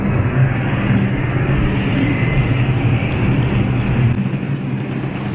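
A New York subway 2 train rolls past in the opposite direction, a steady loud rumble and wheel roar that holds for several seconds with no talk.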